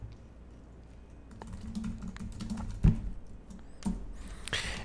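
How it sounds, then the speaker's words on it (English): Soft, uneven clicks of someone typing on a computer keyboard into a free-form text field, quiet and close, with occasional sharper keystrokes and no speech. "I can do that just by typing in any text that I like here"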